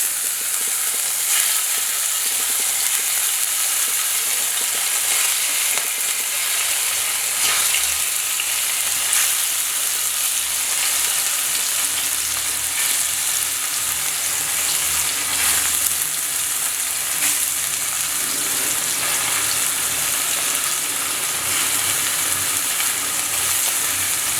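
Paneer fasting cutlets fry in oil in a pan, giving a loud, continuous close sizzle with faint stirring and crackle throughout.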